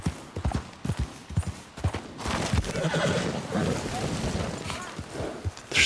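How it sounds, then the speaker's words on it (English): A horse galloping and whinnying in the video game Red Dead Redemption 2, rhythmic hoofbeats followed by a loud, drawn-out neigh, with someone talking briefly over it. "I'm just riding my horse."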